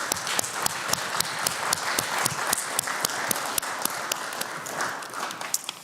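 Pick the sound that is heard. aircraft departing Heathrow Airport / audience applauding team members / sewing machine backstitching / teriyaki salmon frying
audience applauding team members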